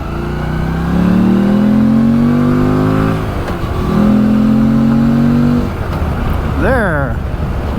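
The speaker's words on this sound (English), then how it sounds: "At higher revs, the engine sound or the exhaust sound is pretty nice." A 2024 Morbidelli T1002VX V-twin motorcycle is ridden on the road, its engine revving up through two rising pulls with a gear change between them. A quick revving flourish follows near the end, with wind noise underneath.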